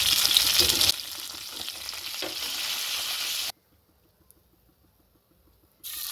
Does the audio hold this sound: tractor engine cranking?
no